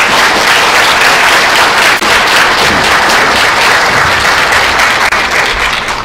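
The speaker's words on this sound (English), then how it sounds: "applause for our 8 graduates that are on stage." Audience at a cosmetology graduation claps loudly and continuously for the graduates on stage, a dense, sustained applause with no speech.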